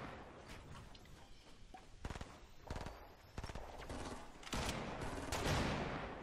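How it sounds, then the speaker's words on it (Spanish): Gunfire in the battle royale game Fortnite, with repeated rapid bursts and single sharp shots cracking at irregular intervals, some near and some more distant, growing busier toward the end. "es que me están disparando"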